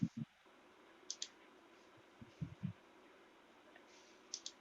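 Several sharp mouse clicks on a computer, scattered singly and in quick pairs, crisp and close against quiet room noise.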